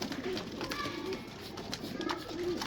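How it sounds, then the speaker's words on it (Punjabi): A breeding pair of Neel Dumba pigeons gives soft, low coos, about four short calls spaced close together. Faint background rustle sits underneath. "ਇਸ ਭਰਾ ਕੋਲੋਂ ਸਰ ਅਸਲ ਨੀਲ ਦੁੰਬੇ ਕਬੂਤਰੀਆਂ ਮੈਨੂੰ ਲੱਭੀਆਂ ਵਾ ਜੀ।"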